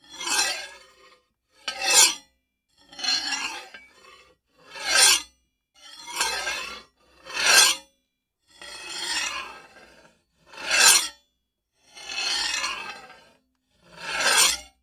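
A recorded blade sound-effect variation for an aggressive cold weapon, made of ten separate harsh, rasping scrapes in a steady rhythm, each about a second long with short silences between, close and clean.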